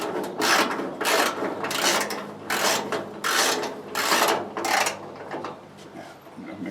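A socket ratchet tightening hood bolts on a 1966 Chevy C20 pickup, close up, in about eight rhythmic bursts of clicking strokes separated by short pauses.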